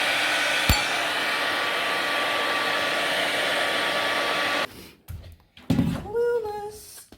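Revlon hair dryer blowing with a steady loud whoosh for several seconds, then cutting off abruptly, followed by a few thumps and brief voices.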